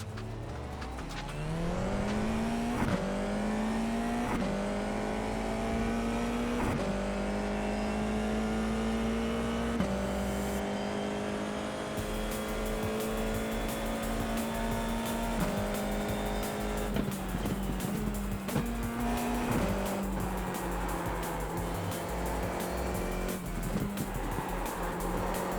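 Formula 4 race car at Silverstone sliding through a corner, its engine holding a steady loud drone that rises in pitch, with sharp gear-change breaks and a rising whine near the end, no talk.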